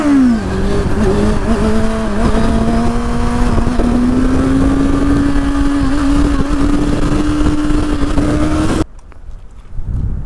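A Zero electric motorcycle in motion, its whining motor tone rising gradually in pitch over a loud steady rush of wind and road noise, close up, then cutting abruptly to a quieter hush near the end.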